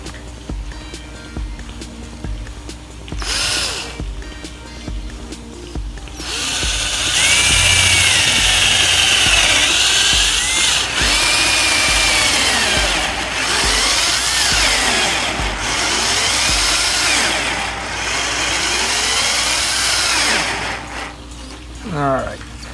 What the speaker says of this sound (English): Cordless drill is doing much better on these small holes.